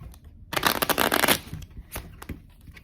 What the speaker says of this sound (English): having the spectator just shuffle up the deck a bit